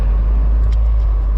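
The engine of a 1998 Mercedes-Benz SLK 230 idles after a camshaft repair and cleaned plugs. It gives a steady, low, close rumble with no talking over it.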